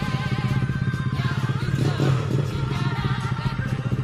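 Honda Scoopy scooter with a 130cc engine starting on its stock starter motor, then settling into a steady, loud, close idle with a rapid pulsing putter and some rattle.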